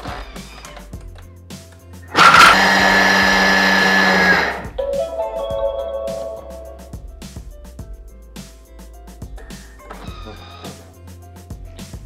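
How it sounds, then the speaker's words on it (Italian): A food processor roars briefly for about two seconds, chopping dark chocolate at speed 8 with a harsh whirring burst, then stops, leaving quiet kitchen clatter and scattered taps. "Mettiamo nel boccale il cioccolato fondente, lo andiamo a tritare per 7 secondi"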